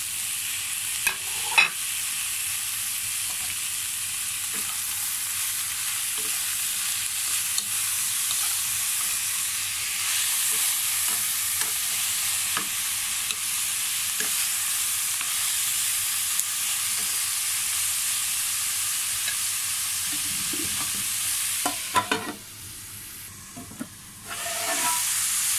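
Bitter gourd, tuna and tomato fry in a pan with a steady, bright sizzle and occasional scrapes of stirring, and the sizzle briefly drops toward the end as the mix is turned.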